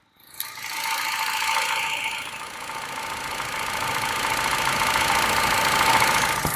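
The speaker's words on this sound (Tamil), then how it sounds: "ஸோ கண்டிப்பா இன்ஜின் நாய்ஸ் கேட்டிருப்பீங்கன்னு நினைக்கிறேன்." A Hyundai i10 engine idles with the microphone held close, giving a steady mechanical clatter and ticking hum that holds evenly for several seconds with no talk.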